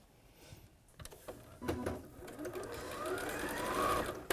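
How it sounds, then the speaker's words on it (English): A sewing machine chain-pieces quilt fabric pieces, quiet at first, then a steady whirring run of stitching builds and continues close by with no talking. "I'll just sit there and just sew them all in one go."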